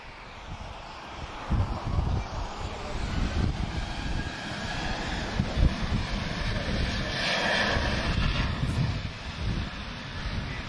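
A jet airplane's engines roar steadily and build in intensity as it takes off from Lisbon Airport, heard from a distance with some wind noise on the microphone.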